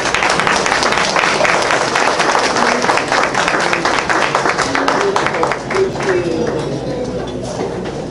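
An audience at a Haitian cultural night applauds a Haitian woman painter with dense, sustained clapping that gradually thins out toward the end, while voices talk and call out throughout.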